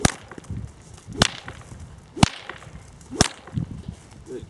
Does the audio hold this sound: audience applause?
no